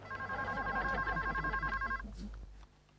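A telephone rings in a Hindi sitcom scene, a steady electronic ringing tone repeating for about two seconds at moderate loudness before cutting off, followed by a brief quiet clatter.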